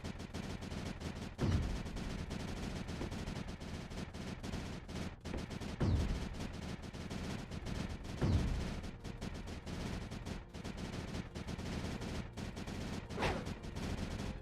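Cannons in the video game Creeper World 4 fire in a dense, continuous rattle of rapid booms over a constant noisy bed, with a few heavier thumps standing out, loud and sustained.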